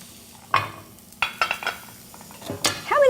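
Oysters cooking on a hot surface give a soft, low sizzle, broken by sharp clinks and scrapes of metal utensils against pans at close range.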